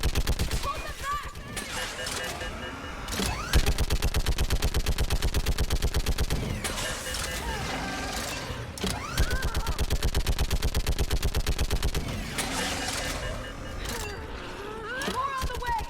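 A mounted gun fires in the video game Mass Effect 3, pouring out long rapid automatic bursts with brief breaks between them, loud and close, while voices shout in the background.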